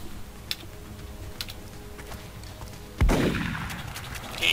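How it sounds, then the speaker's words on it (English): Shotgun gunfire in the video game XCOM: Enemy Unknown: faint clicks over a low hum, then one loud, sudden blast with a decaying boom, no talk. "Sniping with a shotgun didn't work that time."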